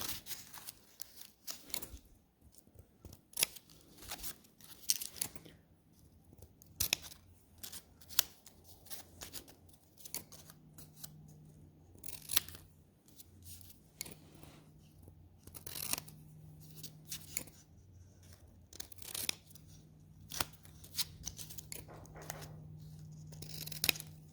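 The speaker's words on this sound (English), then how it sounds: "Now we're going to take our scissors and we're going to trim" Scissors snip repeatedly at the ends of paper strips on a Moravian star Christmas ornament, a long run of crisp close cuts and rustling paper with irregular pauses, no talking.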